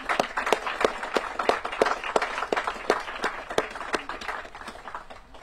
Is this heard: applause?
yes